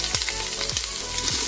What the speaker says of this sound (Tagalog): I-gisa lang natin dito yung ating mga ingredients.